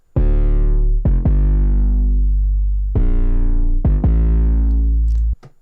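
Heavy distorted 808 bass notes, loud and sustained, sliding and decaying over a few seconds, with a brief click between hits and no talking.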